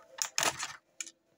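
Plastic being snipped off a Masters of the Universe He-Man 40th anniversary figure, a few short crisp cuts close up with brief pauses between them.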